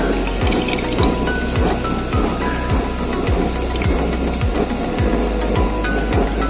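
A heavy-duty used oil stove burner fitted with a new 2 3/8-inch nozzle roars steadily and close, a dense crackling rush broken by regular low thumps roughly every half second, with no voices.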